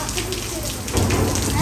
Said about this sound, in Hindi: इतनी तेज बारिश आ गई